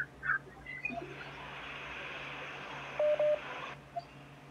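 A telephone is dialed, with a few short electronic keypad tones near the start and a pair of longer beeps later over a faint background hiss.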